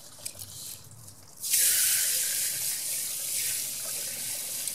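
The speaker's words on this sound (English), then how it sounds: "We're just going to let all that water leak out onto the ground." Water gushes from the honey gate of a beeswax container onto the ground, starting abruptly after a quiet moment and continuing as a steady splashing stream.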